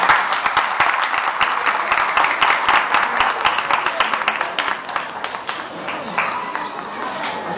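Enthusiastic applause from an audience at a Women's Day church festival program, dense steady clapping filling the whole stretch without pause.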